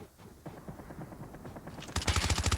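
Rapid automatic gunfire from a weapon in a video game rattles in a fast burst that builds and grows louder toward the end, fairly faint overall with no talking.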